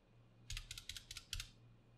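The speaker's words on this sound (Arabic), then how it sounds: "طيب الحين نجرب اللي هو الأرقام بدون المطاط، واللي هو الأسهم مع المطاط موجود فيها، ونبي نشوف الفرق" Keys clatter on a mechanical gaming keyboard with the rubber O-rings removed: a quick run of sharp, close clicks in two short bursts, with a brief pause between them, over a quiet background.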